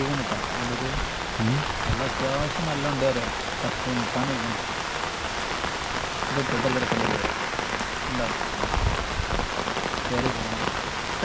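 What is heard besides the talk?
rain falling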